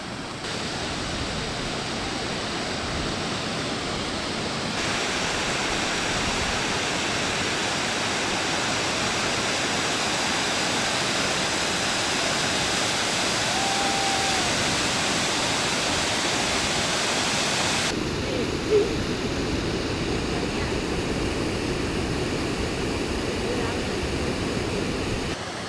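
Alamere Falls and the cascades of Alamere Creek pour in a steady, loud, broadband roar of falling water, continuous and close for the whole stretch, with no other sound standing out.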